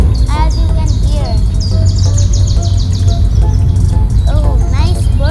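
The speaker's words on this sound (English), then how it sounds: "Oh, nice birds are crying." Birds in the Al Barari nature reserve in Dubai chirp and whistle in quick repeated bursts, loud and near, over a constant background rumble, with a voice talking at times.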